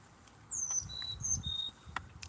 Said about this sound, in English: It's an interesting bird.